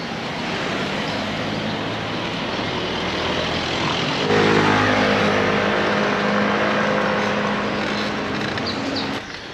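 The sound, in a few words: cars passing in a convoy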